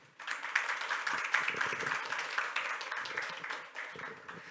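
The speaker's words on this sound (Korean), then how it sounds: "박수로 맞이해 주세요." Audience applause greets a speaker taking the stage at a Korean fintech business seminar, a steady dense patter of many hands clapping at moderate volume that holds evenly for several seconds before easing slightly.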